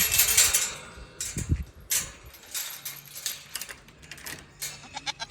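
Goats on a farm bleat in short bursts alongside clinking, jangling rattles and shuffling noises, the calls fairly close and scattered irregularly across the stretch.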